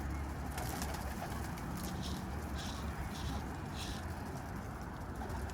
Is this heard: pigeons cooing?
yes